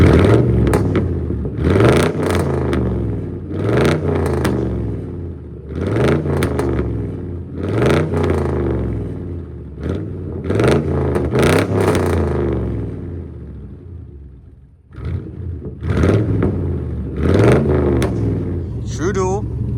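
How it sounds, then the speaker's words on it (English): Crew cab OBS truck with a true dual catback exhaust revving repeatedly, loud close rising-and-falling engine bursts in a steady rhythm with brief lulls between revs. "True dual catbacks are the best exhaust ever."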